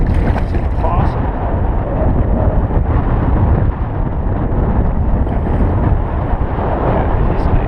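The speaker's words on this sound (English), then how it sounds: "Oh, this wind. It's impossible." Strong wind buffets the microphone out on open water during kayak bass fishing, a loud, continuous rumbling roar with gusty swells and no pause.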